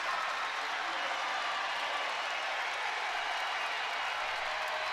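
A volleyball match crowd of Jackrabbit fans cheering and applauding, a dense, steady roar of clapping that stays even throughout.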